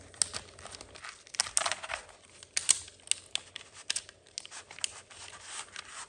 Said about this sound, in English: So I'm going to peel this backing away.